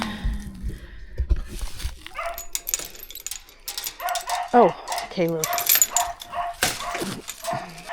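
A dog barks and yips several times in short bursts, close by, while a person speaks briefly over the noise.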